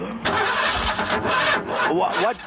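A car engine cranks repeatedly without catching, in loud, close bursts of starter whirring with short gaps between them. A voice is also present.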